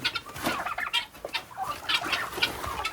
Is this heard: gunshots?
no